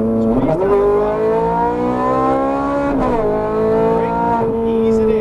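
A Ferrari 430 Scuderia V8 under throttle on a track, a loud steady engine howl with pitch climbing through gear changes and short dips at shifts, heard from inside the car with speech over it.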